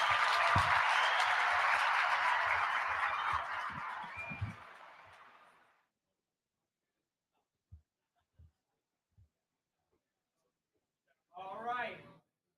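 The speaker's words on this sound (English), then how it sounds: "One more round of applause for Antone here." Audience applause at a sports business event, a loud sustained crowd clapping that fades out over about six seconds, followed by near silence with a few small knocks and a brief burst of voice near the end.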